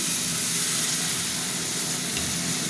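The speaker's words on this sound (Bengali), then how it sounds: "এবার বন্ধুরা জল দিয়ে দিচ্ছি" Water hitting a hot pan of frying pumpkin and okra in oil sets off a steady, loud sizzle and steam hiss that holds evenly throughout, close up with no talking.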